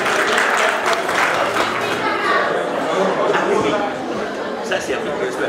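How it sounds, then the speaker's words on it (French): Audience applause at a diaspora energy conference: a full crowd clapping loudly and continuously, with murmured voices mixed in and the sound easing slightly toward the end. "on les applaudit s'il vous plaît"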